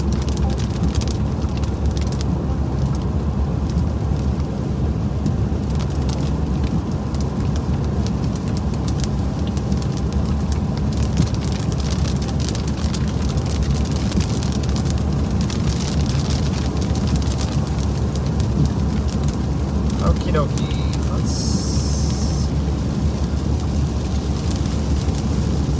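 Heavy rain pours without a break during a severe thunderstorm on a tornado chase in the Southeast US, loud and close, with low rumbling of thunder under the downpour and no talking.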